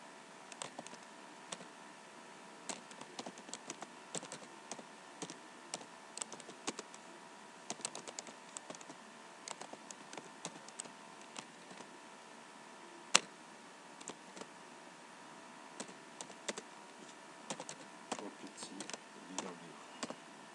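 Quiet, steady typing on a computer keyboard, with irregular soft key clicks running throughout and one sharper, louder click near the middle. No voices.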